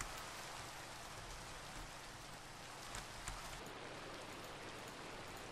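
Steady Minecraft rain patters evenly and continuously at moderate volume, with a few slightly louder drops near the middle.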